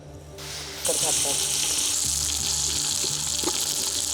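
Ground roasted onion, roasted coconut, ginger and garlic masala frying in extra oil for crab curry, a close steady sizzle with a few stirring scrapes.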